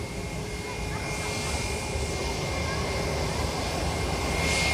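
Jet airliner engines at SJU airport during planespotting: a sustained broadband roar of aircraft noise, fairly loud and swelling slightly toward the end, with no clear talk over it.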